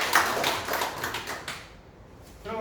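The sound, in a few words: welcoming applause at a meeting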